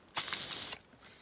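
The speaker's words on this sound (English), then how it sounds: "So I'm using this spray adhesive" An aerosol can of spray adhesive releases one loud, steady hiss lasting about half a second, close by, then cuts off to quiet room tone.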